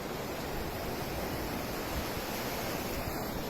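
Sea waves break on a beach at a resort in San Juan, Leyte, a continuous loud wash of surf with some wind, steady throughout and free of voices.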